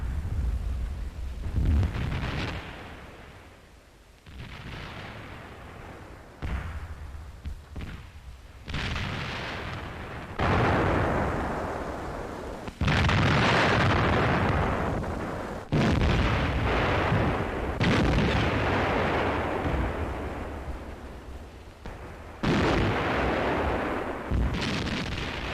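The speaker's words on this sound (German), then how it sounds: "Schwere Feldhaubitzen." Heavy field howitzers fire repeatedly in a German mountain-troop training exercise, a series of loud booming blasts about every few seconds, each rolling out into rumbling echoes, with no talk over them.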